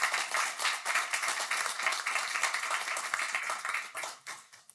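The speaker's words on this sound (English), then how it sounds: "can we have a round of applause for our school board members?" A room of people applauds school board members at a county board meeting, a sustained burst of many hands clapping that swells and then tapers off near the end.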